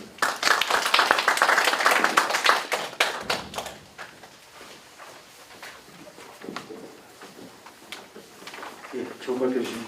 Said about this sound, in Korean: 다시 큰 박수 부탁드리겠습니다